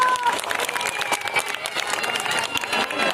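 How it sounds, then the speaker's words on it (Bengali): A crowd applauding at the inauguration of an academy's anniversary celebration, with balloons released and a ribbon cut; clapping fills the scene with scattered voices and cheers mixed in. "করতালি প্লিজ"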